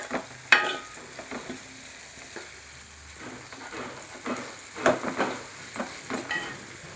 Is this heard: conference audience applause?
no